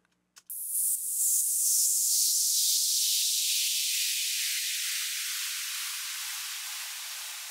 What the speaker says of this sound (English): this is basically a filtered noise sweep type effect, and it's going from high to low